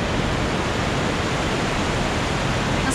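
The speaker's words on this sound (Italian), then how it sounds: "Proprio le cascate" Låtefossen, the famous twin waterfalls near the Hardangerfjord in Norway, roars as a steady, loud, broadband rush of falling water heard close by, with no break in the sound.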